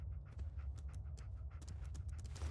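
Dogmeat, the dog companion in the video game Fallout 4, pants in quick repeated breaths over a low, steady game-ambience hum, close and fairly quiet, with no one talking.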